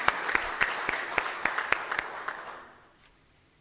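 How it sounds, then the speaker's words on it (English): A church congregation applauds teenagers' youth leaders during a Sunday sermon: a brief, moderately loud round of many hands with a few crisp claps standing out, fading out after about two and a half seconds to near quiet. "Can we clap for Sophia and Kate"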